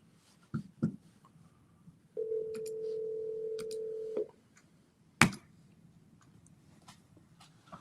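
A phone call placed by voice command to a Texas number, with a few soft clicks before a two-second electronic ring tone, a pause, a sharp knock, then quiet line hiss.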